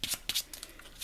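A deck of playing cards being shuffled by hand during a Marvel Champions card game, giving brief crisp riffling bursts in quick succession, close and fairly quiet.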